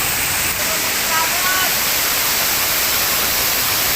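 Steady roaring rush of Digisit Falls in Baler, Aurora fills the whole clip, loud and constant, with a brief voice heard faintly over it.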